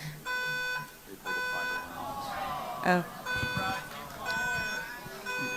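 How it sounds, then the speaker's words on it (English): A building fire alarm blares during an event with repeated long electronic tones in a steady on-off pattern, sounding somewhat distant beneath people talking and moving nearby. "They're trying to stop the event by pulling a fire alarm."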